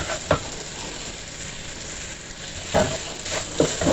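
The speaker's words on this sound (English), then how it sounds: "So just fry it for 5 minutes." Party-style jollof rice ingredients fry in a very hot pot, giving a steady close sizzle and hiss, with brief louder bursts of stirring or spattering near the start and toward the end.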